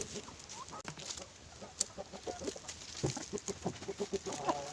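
Several Patani native chickens clucking in short, irregular bursts close by, with scattered sharper calls and background farmyard noise.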